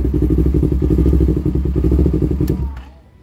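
A Yamaha R3 motorcycle engine runs at idle with a rapid, lumpy rhythmic thrum, loud and close, then cuts off and fades near the end.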